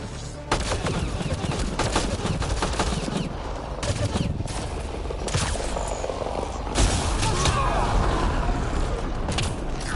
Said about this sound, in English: Why are you shooting me through walls?